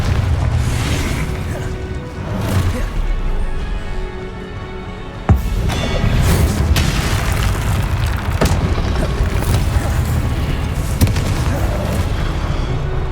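Incendio and Confringo fire spells from Hogwarts Legacy explode repeatedly in a dense, loud stretch of booms and crashes, with several sharp impacts punching through a continuous roaring bed of combat noise.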